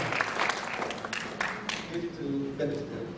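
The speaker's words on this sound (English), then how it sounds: "Please give a warm applause again to those two speakers." An audience at a biomedical engineering symposium applauds two speakers with moderate clapping, while a voice talks over the last part.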